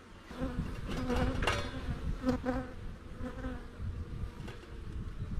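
Honeybees buzz at an open beehive during a varroa treatment before winter, a dense, close droning hum with individual bees swelling louder as they pass near, continuous throughout.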